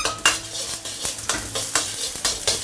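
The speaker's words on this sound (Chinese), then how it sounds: "下入姜片、蒜片还有葱段，我们刚爆香" Ginger slices, garlic slices and scallion segments sizzle in a little hot oil in a wok over maximum heat, with steady frying hiss broken by repeated sharp stirring scrapes of a spatula against the pan.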